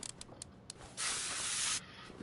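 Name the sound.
spraying car parts in a video game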